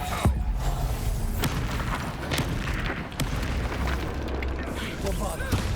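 A Reducto blasting spell goes off in Hogwarts Legacy, a heavy booming burst among other crackling magical blasts and dense battle noise, with a voice calling out over the fighting.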